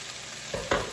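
Cauliflower rice for fried rice hitting a hot frying pan, giving a short soft sizzle and stirring scrape that swells briefly near the end, heard up close without talk.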